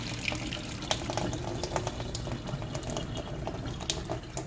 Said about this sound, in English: And then I'll just drain that water out.